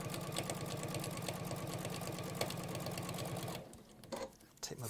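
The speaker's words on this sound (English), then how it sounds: "we're going to sew over the first line of stitching that's on the main body of the" A sewing machine stitches over an existing seam on a shirt body with a steady, close, rapid rhythmic whirring that runs for several seconds and then stops, followed by faint handling sounds.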